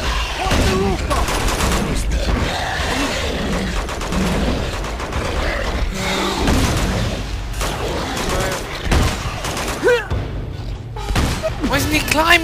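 Sustained gunfire in the action game Uncharted 2, rapid bursts and explosions rattling continuously and loudly, mixed with shouting voices throughout.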